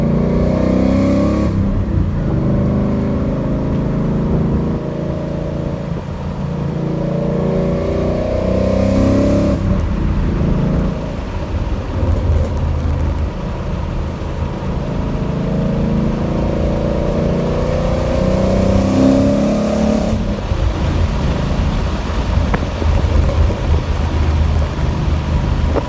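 Inside the cabin of a 2013 Mustang GT with a Flowmaster Thunder Series exhaust and X-pipe, the engine drones steadily while driving, swelling through a couple of loud throttle surges and shifts.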